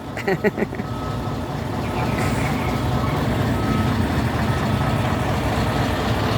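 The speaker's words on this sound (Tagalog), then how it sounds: "Yung truck namin guys, oh. Park natin, wala pang biyahe." A parked work truck backs into position, a short burst of reversing beeps sounding at the start before a steady, rumbling engine idle takes over and continues throughout.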